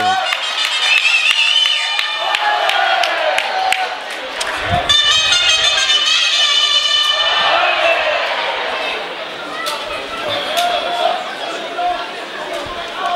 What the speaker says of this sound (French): le public est debout pour applaudir ce premier essai